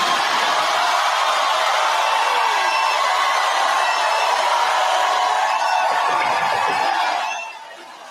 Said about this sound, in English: They just cheer, clap for that.